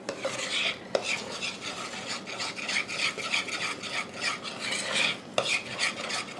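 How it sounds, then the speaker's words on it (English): Cobbler batter being stirred by hand to work in the flour, a steady close scraping and swishing of the spoon around the bowl, with two sharper knocks against the side. "Just keep mixing until you have the flour stirred in"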